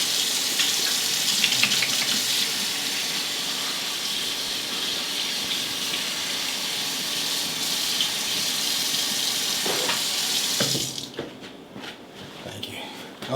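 Water runs steadily from a kitchen sink tap as hands are washed, a continuous close gush for several seconds that cuts off near the end, with no talk over it.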